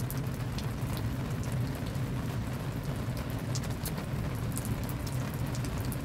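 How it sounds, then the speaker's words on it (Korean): Rain falls outdoors in a steady, soft wash of patter, with scattered sharper drops tapping nearby, quiet and continuous with no one speaking. "비가 와서"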